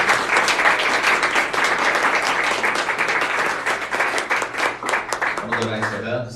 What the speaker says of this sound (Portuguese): As palmas louvam o Senhor Jesus